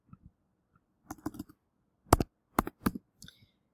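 Scattered clicks of keys pressed on a computer keyboard, a few separate short taps and small bursts, close and quiet with no speech.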